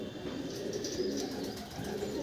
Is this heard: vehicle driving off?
no